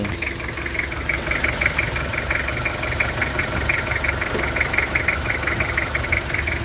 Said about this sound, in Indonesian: Untuk bagian mesinnya seperti ini, suaranya masih renyah sekali. Masih suara ciri khas Kijang itu masih terasa.